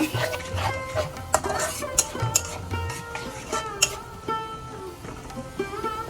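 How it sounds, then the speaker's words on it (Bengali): A spice paste of turmeric and chili powder is fried and stirred in a pan for a fish and eggplant curry. Metal utensils clink and scrape against the pan in frequent close, irregular knocks over a continuous frying hiss, with no voices. "মশলাটা ভালোভাবে কষিয়ে নিচ্ছি, মশলা থেকে তেল ছেড়ে দিচ্ছে"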